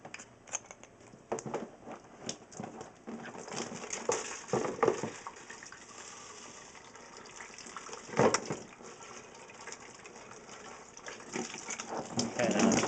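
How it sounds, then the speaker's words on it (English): Water runs out of an aquarium hose into a container, a loose splashing gush that rises and falls in brief surges over a steady trickle, with faint background movement. "now see all the water's coming out of it?"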